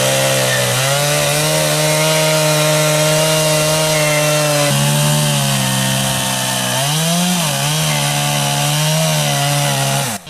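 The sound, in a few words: chainsaw ripping a log lengthwise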